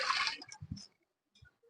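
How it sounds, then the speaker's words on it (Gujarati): Water pours into a pressure cooker on a gas stove for boiling potatoes. A short splashing rush lasts under a second, then a couple of faint drips and small clinks follow in near silence. "હવે આપણે કુકર મૂકીશું ગેસ ઉપર અને એમાં બાફવા માટે પાણી નાખશું"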